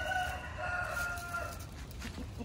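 A chicken or rooster crows and clucks, with tonal calls at moderate distance over a steady outdoor background hum and no speech.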